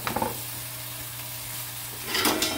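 A chuck roast sears in a hot pan for brasato al Barolo, giving a steady, fairly quiet sizzle and crackle that swells louder near the end, with no talking.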